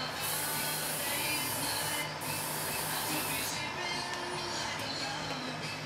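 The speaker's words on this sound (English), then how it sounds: "I've got my paint gun all loaded up." Steady, loud hiss of a paint spray gun running continuously while painting a 1/350 scale Star Trek Enterprise model kit, with a slight dip and change in tone partway through.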